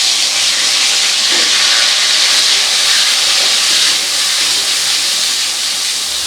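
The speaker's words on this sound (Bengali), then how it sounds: "টমেটোটাকে খুব ভালো করে একটু ভেজে নেব" Chopped tomato fries loudly in hot oil with a five-spice tempering, giving a dense, steady hiss that stays close and constant throughout, with no voices.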